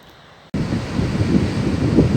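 Wind blowing at the beach near the Phare des Baleines on the Île de Ré at nine in the morning: a sudden steady roar of gusting air against the microphone that starts after a brief quiet moment and continues loudly.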